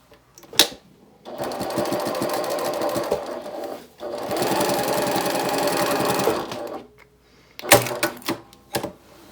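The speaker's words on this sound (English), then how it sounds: "you're going to sew at the other end again about 1¼ inches, and make sure to back stitch at the beginning and the end at this side as well" A sewing machine runs in two sustained bursts of rapid stitching with pauses between, stitching and back-stitching the seam of a fabric toiletry bag, followed by a few sharp clicks and clacks near the end.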